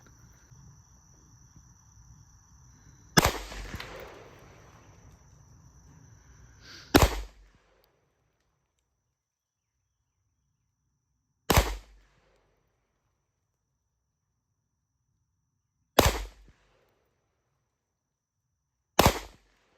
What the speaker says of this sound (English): Let's see how this Mossberg shoots.